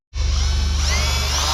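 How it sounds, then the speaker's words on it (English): A power drill with a 5/16 drill bit starts up and runs at a steady high whine, loud and close, while drilling mounting holes for an Ascend 133x kayak trolling motor mount. "I'm gonna go ahead and drill a couple of these and see what it looks like when it's done"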